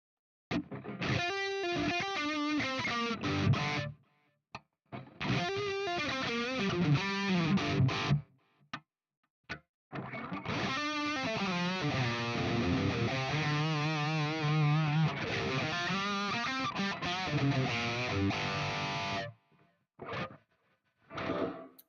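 Distorted electric guitar with coil-split humbucker pickups plays bent lead phrases and riffs in bursts, separated by short silences, moderately loud and close.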